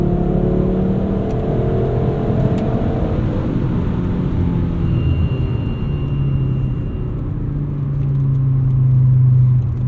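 A modified Volvo 850 R with a five-speed gearbox and a 3-inch downpipe fills the cabin with a steady, loud engine and exhaust drone at cruising speed. The low rumble holds constant throughout with no talk over it.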